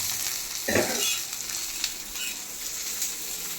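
Green chillies sautéed on a low flame for Maharashtrian thecha, a gentle steady sizzle with one brief stir or scrape near the start and light crackles after, close and quiet without speech.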